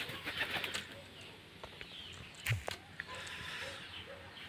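Pigeons fly past outdoors, wings flapping in quick fluttering bursts, with a soft coo and a few sharper flaps near the middle, all fairly faint against open-air background noise.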